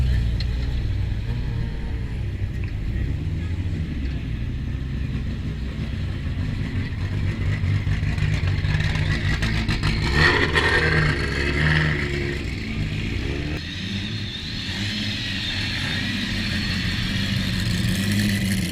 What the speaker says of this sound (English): the only real shame with the Lancia is nowhere near as noisy as I was expecting it to be